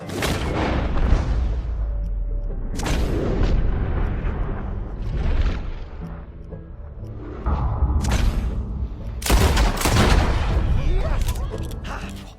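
Gunfire in Red Dead Redemption 2 bursts out as several loud booming shots between stretches of game dialogue, with heavy reports around the middle and near the end.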